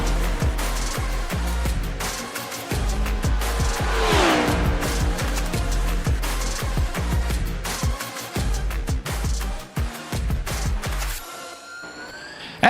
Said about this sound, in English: As all racers continue to go around the speedway